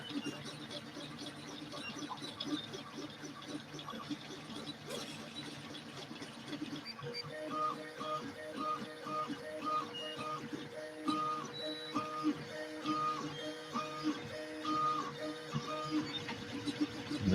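An Adimlab 3D printer laying down layers: stepper motors whine and buzz in quick tonal patterns that shift with each move, steady and moderately close throughout.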